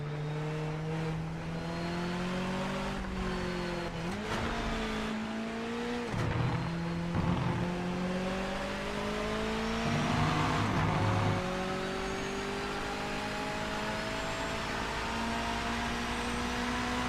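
A race car engine in Project Motor Racing drones loudly at high revs, its pitch climbing steadily through long pulls with brief dips at gear changes and tire and chassis noise underneath.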